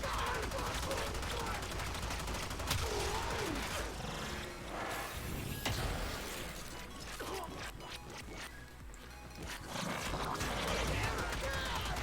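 Gunfire in the video game Warframe, bullets pulled into a magnetic bubble: dense rattling bursts and mechanical clatter come fairly loud and continuous, with a voice talking over them.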